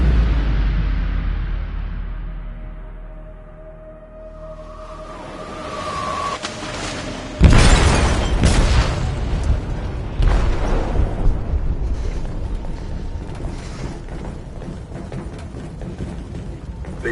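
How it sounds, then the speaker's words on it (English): A heavy explosion detonates in a ship's hold in the video game Detroit: Become Human, arriving as a loud, deep boom after a rising rumble, then rolling, crackling debris and low rumbling that carry on for many seconds. "They detonated an explosive in the hold."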